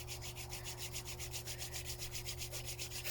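Palms rubbed briskly back and forth during a yoga practice, a steady rhythmic swishing friction of skin on skin, close and continuous, with a low hum beneath and no talk.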